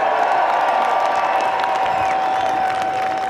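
Crowd at an outdoor No Kings protest rally in Boston applauds and cheers for veterans, a steady dense wash of clapping and voices throughout with a sustained tone running beneath.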